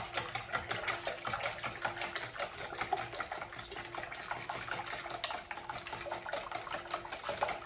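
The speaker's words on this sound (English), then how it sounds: "let's give that a little whisk" A whisk beats vanilla bread pudding custard in a bowl, making fast, even, continuous rhythmic clicks and swishes up close with no pauses.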